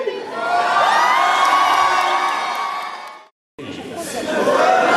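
An audience at a cosplay contest at a manga convention erupts in loud cheering, whoops and shouts with children's voices, a sustained roar that briefly cuts out before swelling again.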